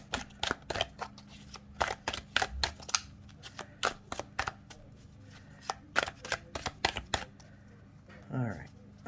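Tarot cards being shuffled and drawn, a rapid series of sharp close snaps and riffles in uneven bursts, with a brief voice near the end.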